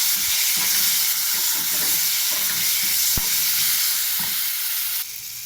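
Spices and ground paste of salt, turmeric, chilli, cumin and ginger being sautéed in a pan, a steady close sizzle and fry with a few soft stirring knocks of a spoon against the pan.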